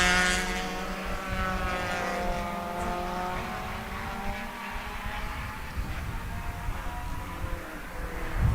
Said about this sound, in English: hopefully y'all can hear the cars pretty well